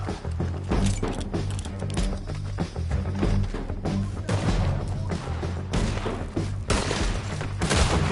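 Dense gunfire from a Red Dead Redemption 2 shootout, rapid overlapping shots cracking close and loud in a continuous barrage over a heavy low rumble, with shouting voices mixed in.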